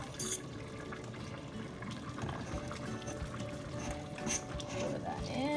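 Chowder broth mix being poured into a pot in a home kitchen, a faint liquid splashing and trickling sound under low background noise.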